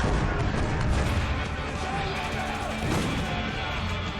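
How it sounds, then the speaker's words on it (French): Grenade launcher explosions in the shooter Spec Ops: The Line, a dense, continuous rumble of booms and blasts, loud and close throughout, with a voice talking over parts of it. "Grenade launcher."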